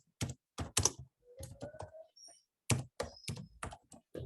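Someone types a full name on a computer keyboard. Close, quiet clusters of key clicks come in irregular bursts with short pauses, and faint tones sound between them. No one speaks.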